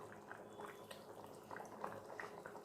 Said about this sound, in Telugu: ఇప్పుడు ఇట్లా ఉడుకుతుంది కదా